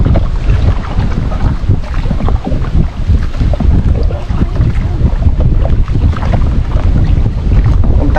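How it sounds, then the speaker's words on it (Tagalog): Wind buffets a small wooden boat without outriggers being paddled on open water, a loud, gusty rush with splashing and water slaps close by, continuous and uneven. "Napapalid tayo ng hangin mga kasinag."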